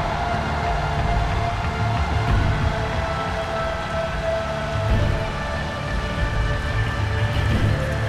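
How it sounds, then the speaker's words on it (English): Rain pours steadily in the horror video game Silent Hill: Downpour, a dense, even hiss of falling water with a faint tonal hum underneath, continuous and fairly loud with no talking. "Oop, it's raining."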